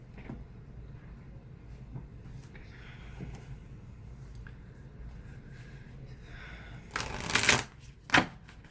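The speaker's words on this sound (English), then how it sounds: "Let me pull a shaman card and then we'll be done." Shaman oracle cards being shuffled in a quiet room, a soft low rustle for several seconds before two brief louder bursts of card riffling near the end.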